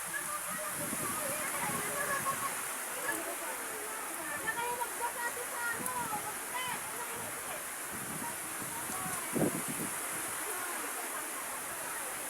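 Heavy rain pouring over a farm field of string beans during a storm, a constant steady hiss with scattered faint splashes and knocks.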